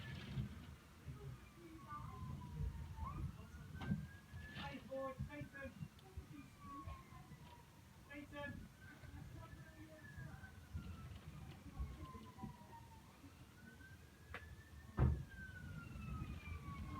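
A distant police siren wails in slow rising and falling sweeps during a snowy thunderstorm in England, heard through an open bedroom window over low rumbling ambience, with a sharp knock or thud near the end.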